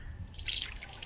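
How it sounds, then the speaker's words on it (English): Water runs and trickles from a slightly opened tap during plumbing work with a pipe clamp, a faint steady hiss with soft splashy patter, no talking. "You see the water's still running there."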